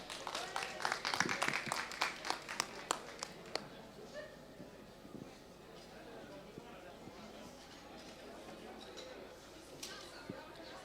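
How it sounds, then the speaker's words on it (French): A small audience applauds a child at a marble-run demonstration, a brief scatter of close hand claps for a few seconds that fades away, followed by quiet chatter and faint ticking. "Eh bien, on applaudit fort Sacha."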